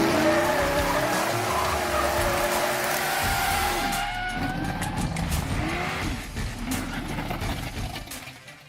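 Toyota Supra sports cars drive past in a loud, continuous engine roar that rises and falls in pitch as they go by, fading slightly toward the end.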